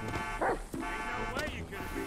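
A dog lets out a couple of short, sharp barks close by, mixed with other background sound and a brief voice.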